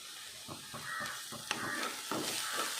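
Ginger and garlic frying in a pan, with a steady close sizzle broken by several soft stirring scrapes and clicks spread across the short stretch, no talking.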